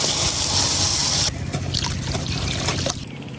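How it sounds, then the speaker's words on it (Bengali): Water pours steadily into a pot of lentils, a continuous trickling splash that shifts in tone as it fills, with no voices. "এখন দিয়ে দেন পানি।"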